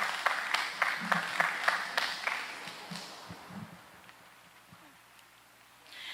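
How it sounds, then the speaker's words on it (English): Brief round of applause for spelling bee contestants at a secondary schools event, a burst of clapping in the first few seconds that fades quickly into quiet room noise with faint murmurs. "let's give a round of applause for our contestants"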